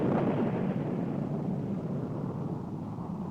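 A Navy Polaris missile fired from a nuclear-powered submarine off the Cape coast gives a loud, deep, continuous roar that fades slowly over a few seconds with no voices.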